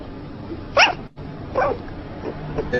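A small dog asleep and dreaming gives a couple of short, muffled barks and whimpers, close by and fairly quiet, with soft background hiss between them.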